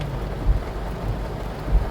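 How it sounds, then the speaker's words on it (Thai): Heavy rain makes a dense, steady patter with a low rumbling wash underneath and a couple of soft thumps, with no talk. "ฝนตกหนักจริงนะเธอ"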